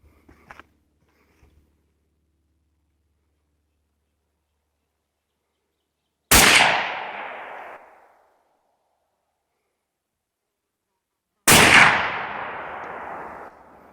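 A .410/.22 combination gun fires two loud, sharp shots several seconds apart outdoors, each a sudden crack followed by a rolling echo that fades over about a second, with near silence between.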